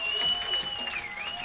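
A brief burst of crowd cheering and clapping at a Piggott vs Cave City high school football game, moderately loud, with a whistle-like tone running over it.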